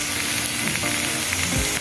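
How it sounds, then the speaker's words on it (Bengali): Dried loitta fish (shutki) fries in a pan with a dense, close, continuous sizzle that stays even for the short moment. "আজকে ভেজে নিচ্ছি।"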